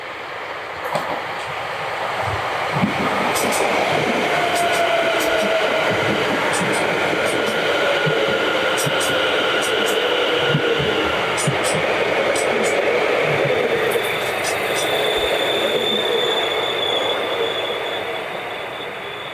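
A train runs through Rye House railway station on the New River Line, its loud, steady rumble rising and fading over about twenty seconds, with repeated wheel clicks and brief high squeals.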